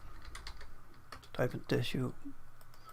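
Rapid keystrokes click on a computer keyboard in quick ticking bursts, close and fairly soft, with a voice briefly speaking over them midway.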